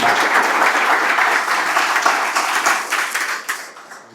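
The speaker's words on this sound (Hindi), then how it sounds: "इनके लिए जोरदार ताली" An audience at a coaching academy event gives enthusiastic applause, steady and full at first, then thinning into scattered claps as it fades.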